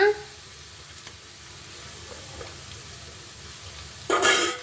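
Onions frying in a pan give a soft continuous sizzle under a person speaking, with a brief louder burst of stirring near the end.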